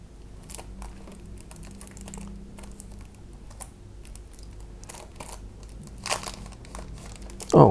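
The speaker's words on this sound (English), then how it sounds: "we have a strip right here that we can peel" A plastic tear strip is peeled off a sealed Metroid Prime Remastered game case: faint, close crinkling and rustling through a quiet room, ending in a sharper, louder crackle.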